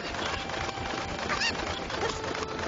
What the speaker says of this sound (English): No, I didn't want to throw the damn chicken.